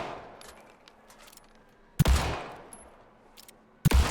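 Gunshots ring out in Alan Wake II as cans are shot: two sharp, loud reports about two seconds apart, each with a decaying tail, over a quiet ambient background.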